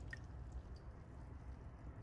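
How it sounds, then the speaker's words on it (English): Heavy cream dripping and glugging out of its carton into a crockpot for chicken Alfredo, a soft, faint wet trickle with a brief splat near the start, steady and close with no talk. "Let it all drip out."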